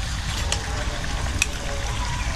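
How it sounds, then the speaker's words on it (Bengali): Chicken pieces for a Bengali-style chicken korma fry in a pan after salt is added, giving a loud, steady sizzle with faint stirring scrapes throughout. "দিয়ে আমি এবার আরও ভালোভাবে কষিয়ে নেবো মাংস।"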